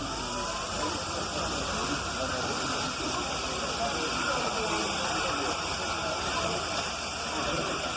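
A steam locomotive at a Polish steam engine event gives off a steady, loud hiss of escaping steam that lasts the whole stretch, with a faint voice underneath.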